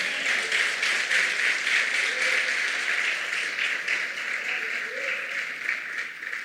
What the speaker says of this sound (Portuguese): Quem pode aplaudir o Senhor Jesus?